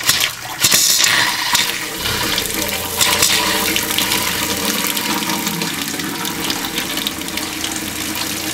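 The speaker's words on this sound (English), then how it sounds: "Whoa, now it's pressurized up. Hot water." Hot water gushes steadily from a tap on a van's pressurized water system, a loud continuous rushing splash throughout, with a brief spoken word near the start.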